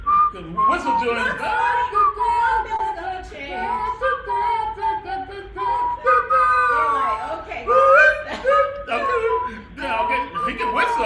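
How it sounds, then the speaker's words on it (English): Melodic whistling carries a wandering tune in short phrases, close and fairly loud, with a few brief pauses between runs. "Okay, he can whistle. Listen to him."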